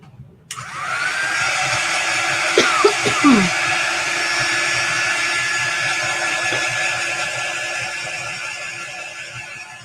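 A hair dryer runs steadily to dry a rub-on transfer applied to a glass container candle, a loud continuous whirring blow with a faint whine, starting abruptly and holding for the rest of the clip with brief clunks of handling early on.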